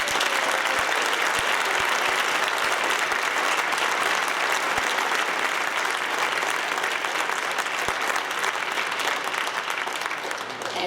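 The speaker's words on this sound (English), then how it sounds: "How about a big round of applause for all of them?" Audience applause at an outdoor Veterans Day concert band concert, sustained clapping from a crowd throughout, dense and steady with a few sharper individual claps standing out.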